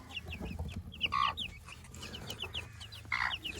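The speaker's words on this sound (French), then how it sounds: "Donc mon poussin Brahma" A young Brahma chick peeps and clucks in short repeated bursts, close and fairly clear, with a few louder calls among quieter chirps and no talk.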